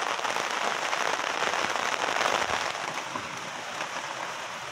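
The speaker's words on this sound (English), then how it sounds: "Here we go, and so is the rain." Heavy rain pours steadily during a storm in Guelph, a dense, continuous hiss of drops striking surfaces close by, holding loud throughout and easing only slightly toward the end.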